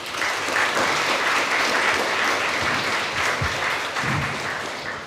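A crowd claps steadily and loudly for several seconds, the applause tapering slightly toward the end.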